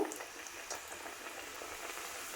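Pappu chekkalu, crisp rice flour crackers, frying in hot oil with a steady soft sizzle and fine bubbling crackle, close and fairly quiet, no voices.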